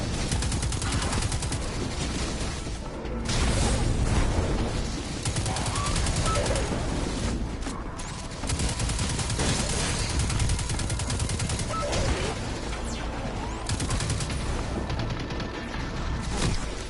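Dense enemy gunfire from Destiny 2 rattles on without pause, a loud mix of rapid automatic bursts and heavier impacts filling the whole stretch with no clear break.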